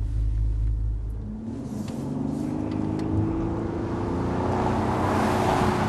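A car engine burbles and rumbles as the car accelerates, a low throaty drone that swells steadily under faint road noise, with no talking.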